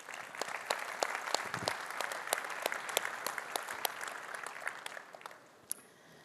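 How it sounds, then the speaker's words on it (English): Audience applause at a plenary session of an industry event, thanking the event partners: steady crowd clapping with sharp individual claps, moderately distant, fading slightly toward the end. "So please join me in giving them a warm thank you applause."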